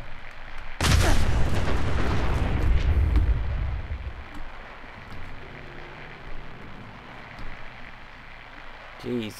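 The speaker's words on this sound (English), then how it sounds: "Jeez, that explosion lasted, went a long way" In the video game Fallout 4, an explosion erupts with a sudden loud boom, then rumbles and crackles for several seconds before fading into softer scattered pops and debris, with someone talking over the tail.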